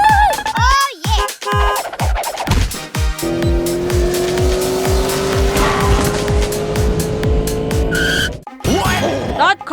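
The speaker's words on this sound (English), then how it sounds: "That car ran a red light and also changed lanes, damaging the trash bin." A cartoon car speeds through a street, its tires squealing and skidding in long loud screeches over a steady roaring engine, with sharp bursts and crashes at the start and end.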